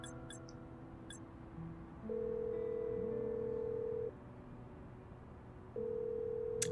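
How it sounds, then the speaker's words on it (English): In the video game Love and Deepspace, an unanswered phone call gives two long, steady ringing tones separated by a pause. A few faint ticks come first and a short click comes at the end. "he doesn't answer the phone after 2 rings"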